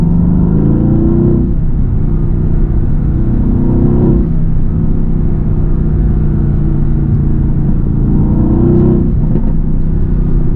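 A Mercedes-AMG GT S with its 4-liter bi-turbo V8 and exhaust valves open gives a loud, deep, continuous rumble, with several rising and falling rev sweeps.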